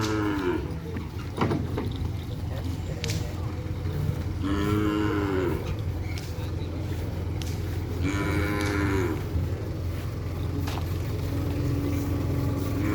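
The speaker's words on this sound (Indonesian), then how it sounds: "Ini ada juga datang sapi ampet guys." Cattle low in a few long, deep moos, two of them clearly near and drawn out, over a steady engine-like drone at a village field where bulls are being prepared for a race.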